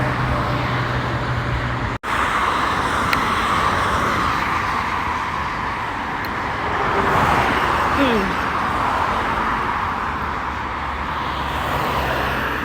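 Road traffic of cars on a street in Oman, a steady wash of passing engines and tire roar heard close by, with a brief dropout early and voices talking faintly underneath.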